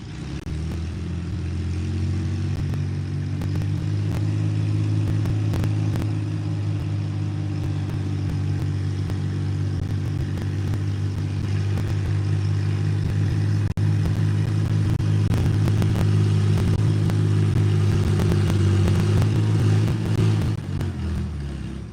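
An antique tractor engine roars steadily at an antique tractor pull at a West Virginia farm museum, loud and continuous with a low rumbling drone that builds slightly toward the end before cutting off.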